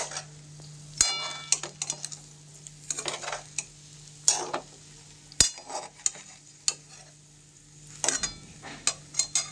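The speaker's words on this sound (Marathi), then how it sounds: "मस्तपैकी आपल्याला खिचडी हलवून घ्यायची आहे." Khichdi is stirred in a pan over low gas, with repeated bursts of scraping strokes at an uneven pace over a faint, steady sizzle and hum. Occasional sharp knocks of the spoon against the pan stand out.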